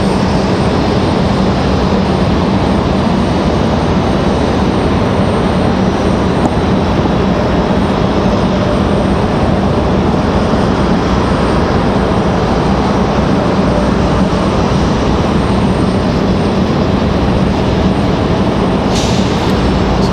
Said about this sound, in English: Our next arrival here is going to be another E175.